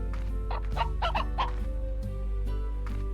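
Several chickens cluck in short bursts over a steady low hum in a video game, the calls loud and close with brief pauses between them.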